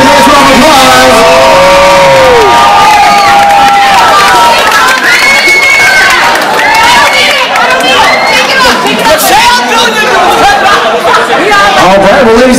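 A loud crowd cheers and shouts at a family gathering after an introduction of the Pat Plantation Dance Hall of Applause, with excited voices, whoops and chatter filling the whole stretch and no pause.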